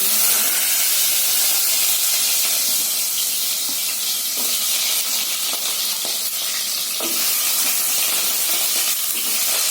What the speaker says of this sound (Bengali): গ্যাসে রান্না করলে কি হয় সব ছিটকে ছিটকে তেলগুলো সব পড়েছে